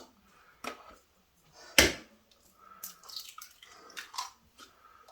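Eggs are cracked into a bowl of oil and water for peach coffee cake batter, with a sharp shell crack followed by soft wet drips and plops, close and isolated in a quiet kitchen.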